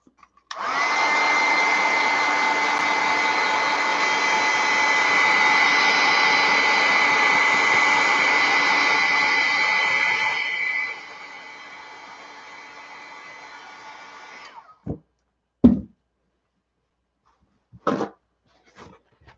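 A dryer blows on a mixed media artwork after stenciling, a loud steady rushing whoosh lasting about ten seconds before dropping to a softer hum, then a few sharp knocks and taps.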